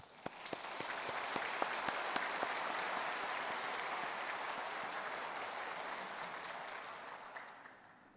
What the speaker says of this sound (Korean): 우리 감사의 박수를 하겠습니다